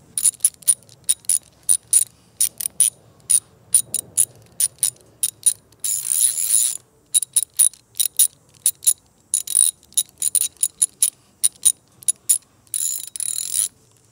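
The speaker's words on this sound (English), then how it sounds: "Now let's move on to the ratchet, which I've got the Sears & Craftsman. I got a 1/2-inch socket on the end of it" A Sears Craftsman ratchet fitted with a half-inch socket clicks in quick, close bursts, its sharp pawl ticks coming in repeated runs with short pauses between them and no voices.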